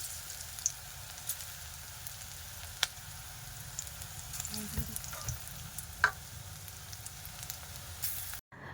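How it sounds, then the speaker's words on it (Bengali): Soft, steady bubbling and sizzling of onion fritter batter frying in oil, with a few sharp clicks and light utensil sounds, no talking. "আবারও দিয়ে দিচ্ছি পেঁয়াজির সাইজটা কিন্তু ছোট ছোট করছি"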